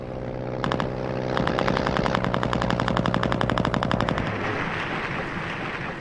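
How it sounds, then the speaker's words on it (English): WW1 anti-aircraft guns firing at low-flying bombers: a dense, rapid rattle of repeated shots forming loud sustained bursts over a heavy roaring background, then tailing off into rumble. "The bombers, flying low to drop their load, came under increasingly heavy anti-aircraft fire"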